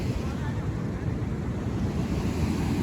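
Sea waves surge on Arambol Beach in Goa, a continuous loud rushing roar mixed with buffeting wind on the microphone.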